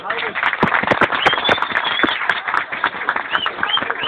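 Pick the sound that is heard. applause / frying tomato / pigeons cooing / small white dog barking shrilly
applause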